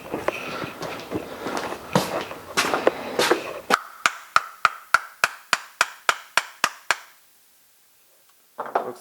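Sharp metal hammer blows drive a part onto a force measuring rig, first a dense flurry of strikes, then about a dozen evenly spaced loud single hits, then a pause and one final knock.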